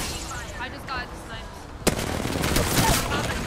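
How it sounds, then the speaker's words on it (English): Gunfire in the battle royale game Apex Legends breaks out suddenly after a quieter stretch, a loud, dense sustained volley mixed with game noise, with people talking beneath it. "Are you ready? I'm shooting."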